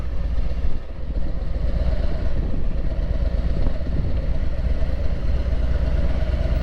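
Harley-Davidson motorcycles idle in a lot at a roadhouse as they are parked, giving a loud, continuous low engine rumble with a faint mechanical clatter, close and steady.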